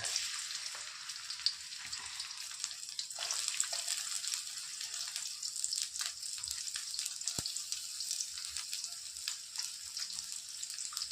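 Chopped onion fries in hot oil for dried Bombay duck bhaji, giving a steady hiss of sizzling with occasional soft stirring scrapes.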